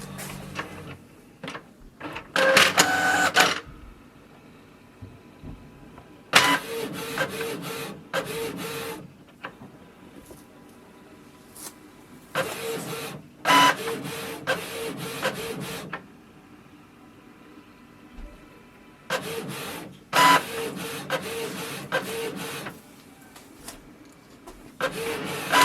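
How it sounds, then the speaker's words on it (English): A Canon PIXMA MG2522 printer makes a color copy: bursts of mechanical whirring and feeding, several seconds each, separated by quieter pauses and faint ticking as the print head shuttles back and forth. "click on the color icon here and wait for the printer to do the copy"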